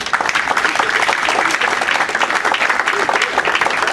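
Sustained, dense applause from a school board meeting audience welcoming a presenter of energy efficiency recognitions, steady and loud throughout with no clear pauses.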